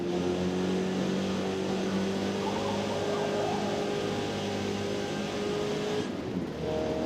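A 1990 MX-5 race car in Forza Motorsport multiplayer drives on with a steady, droning engine note that holds at high revs, its harmonics sliding slightly, fairly faint and continuous throughout.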